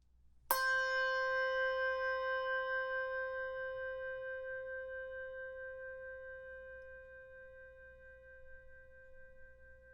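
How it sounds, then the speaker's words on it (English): A meditation chime at a worship service is struck once, ringing out clear and close, then slowly fading with a gentle wavering shimmer over nearly ten seconds in otherwise quiet surroundings. "Here's the first chime."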